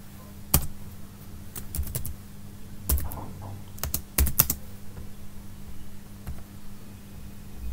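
Computer keyboard typing while hard-coding a message, scattered sharp key clicks in short bursts with gaps, close and clear over a faint steady hum, no speech.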